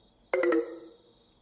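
A phone gives a short low-battery warning chime, a quick cluster of bright tones lasting about a quarter second then fading out in a quiet room.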